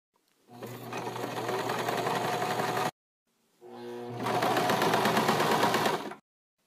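A sewing machine hems a skirt in two steady, loud whirring runs of rapid stitching, each lasting a few seconds, separated by a short silent pause.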